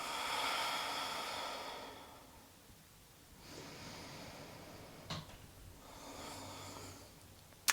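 A slow exhale during a yoga stretch, a soft, breathy whoosh close to the mic that fades into quiet, followed by faint rustles and a few light knocks.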